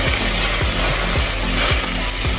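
Meat pressed flat into a hot pan for lasagne sizzles loudly and steadily, a dense frying hiss with faint regular clicks underneath, close up and with no talking.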